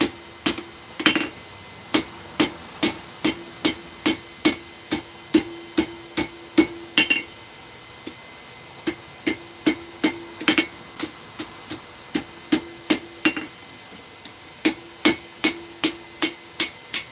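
Hammer strikes on hot steel at an anvil while forging a nail set: sharp, ringing blows in a steady rhythm of about two per second, close and loud, broken by two short pauses.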